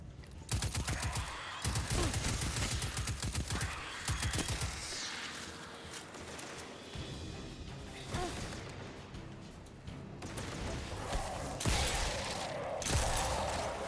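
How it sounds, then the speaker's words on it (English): Shotgun fire in Destiny 2 amid a dense game battle: loud, close blasts and bursts of gunfire mixed with whooshing effects and mechanical clatter, recurring in clusters over about fourteen seconds. "That's the slowest shotgun ever."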